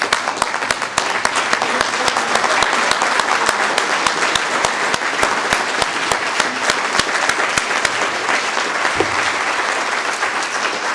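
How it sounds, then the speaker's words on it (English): Sustained applause from a large crowd at a community foundation awards dinner, dense steady clapping filling the whole stretch at an even loudness. "let's all rise and give all the recipients a nice round of applause, please"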